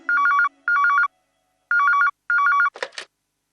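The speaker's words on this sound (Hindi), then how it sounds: "हाँ, आपके लिए फोन है।" An old-style telephone bell rings in four loud trilling bursts with short gaps, indoors in a Hindi TV drama scene, followed by a brief clatter as if the receiver is picked up; no speech.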